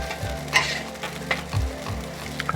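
Roasted potatoes cooking in a pan, a soft steady sizzle with occasional scraping stirs and light clinks from a utensil, fairly quiet and close with no voices.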